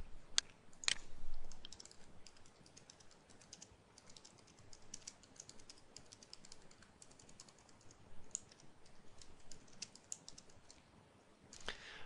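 Quiet, steady typing on a computer keyboard while report details are entered into assessment software, a continuous patter of soft key clicks with a few sharper taps, with no voices.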